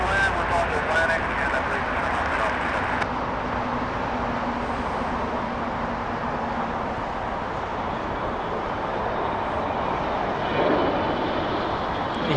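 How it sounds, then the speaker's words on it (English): A departing executive jet climbs out close by near Los Angeles International Airport, its engine roar a loud, steady broadband rush that holds for the whole stretch and swells slightly toward the end. "Is that an exec jet? Yeah, it was an exec jet."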